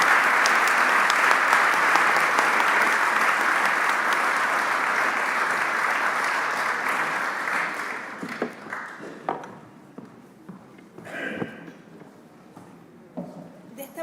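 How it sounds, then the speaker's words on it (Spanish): An audience at a public health seminar applauds, a full steady roar of clapping that fades into scattered claps, shuffling and a few faint voices as the session ends. "Un gran aplauso, por favor."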